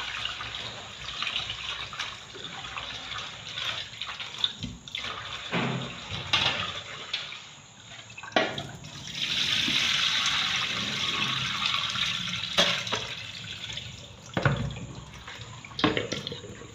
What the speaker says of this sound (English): So I'm adding hot water.